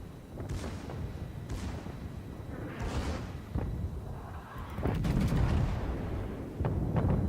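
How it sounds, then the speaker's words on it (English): Secondary guns on the battleship Bismarck fire in World of Warships, a run of booming shots and thuds spaced a second or so apart, some overlapping into rolling volleys against continuous battle rumble. "the secondaries are opening up, causing all sorts of damage"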